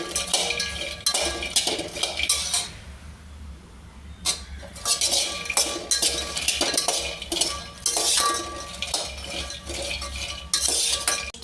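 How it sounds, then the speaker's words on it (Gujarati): Makhana (fox nuts) roast in a pan while a metal spoon stirs them. Close scraping and clinking comes in repeated bursts with short pauses, and a faint sizzle sits underneath. "અને થોડીક વાર રોસ્ટ કરશું"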